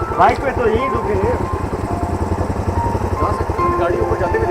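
A motorcycle engine labours uphill on a mountain road in Kumrat Valley, a steady loud drone with a rough pulsing rhythm held close throughout, with voices talking over it.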